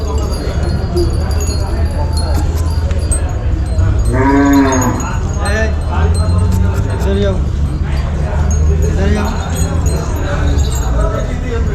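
A decorated cow at a cattle show moos once clearly and loudly amid a crowded, noisy fairground, with people talking throughout.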